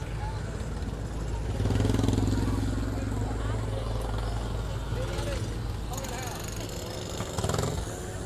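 Motorcycle engines rumble steadily through a Delta Fair parade, a continuous low drone with a swell near the start and another late on, mixed with crowd noise and nearby talk.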